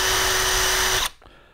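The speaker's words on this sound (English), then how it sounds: "angle your drill bit at the center and drill a little bit deeper" A power drill runs loud and steady with a constant whine as the bit bores into wood, then cuts off abruptly, leaving faint room noise.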